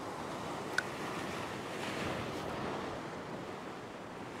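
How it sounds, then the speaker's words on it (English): Ocean waves wash against rocks at a rock fishing spot, a constant broad surf hiss with wind noise, swelling slightly in the middle and with one small sharp tick near the start. "a couple of waves coming out the back"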